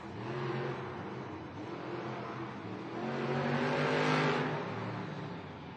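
Megalodon monster truck at a Monster Jam arena, running without rear steer, its engine droning and swelling in a steady revving roar that builds toward the middle and eases off, heard at a distance with no talk.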